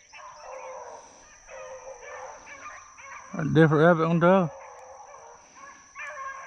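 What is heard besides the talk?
dogs barking while running a rabbit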